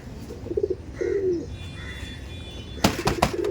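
Malbai pigeons coo in soft, low, rolling calls close by, several short coos spread across the stretch, followed by a burst of brief sharp knocks or wing flaps toward the end, with no speech.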